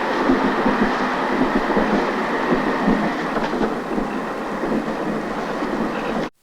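A train rumbles steadily along the rails with a dense, continuous roar, loud and close, until the sound cuts off abruptly at the end.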